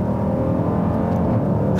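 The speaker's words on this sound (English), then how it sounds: "the exhaust makes lovely noises" A 2018 Dodge Durango SRT's exhaust growls in a steady, deep, close roar under acceleration, with no voices.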